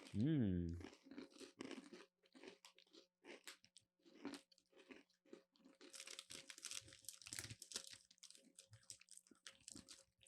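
Graham crackers crunch with sharp bites and chewing in close, quiet bursts, with short spoken remarks in between.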